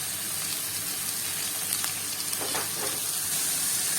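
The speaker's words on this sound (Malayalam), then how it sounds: "ബീറ്റ്റൂട്ട് ഇട്ട് നന്നായി ഇളക്കി കൊടുക്കാം" Beetroot stirred in a hot pan gives a steady close sizzle of frying, with a few scraping stir strokes near the middle and no talking.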